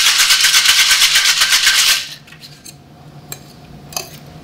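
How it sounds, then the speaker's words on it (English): Cocktail shaken hard in a shaker at a live outdoor food and beverage demo, a dense rapid rattle of ice for about two seconds, then stopping abruptly, leaving faint background clinks. "We just give it a quick shake just to really aerate it"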